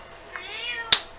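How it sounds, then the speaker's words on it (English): A single cat gives one drawn-out meow, close and clear, followed by a short sharp click or tap, with quiet room background and no talking. "I'm just gonna let my cat meow for this review."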